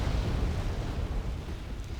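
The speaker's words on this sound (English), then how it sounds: "Here we have lots of enemy mortars coming in on this stuff" Mortar shells explode in Wargame: Airland Battle, a continuous rumbling barrage of deep, low booms rolling one into another at steady loudness, with no distinct gaps between impacts.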